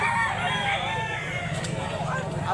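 Roosters and hens at a Cebu chicken sale, with a rooster crowing amid clucking fowl and steady crowd murmur and voices close by.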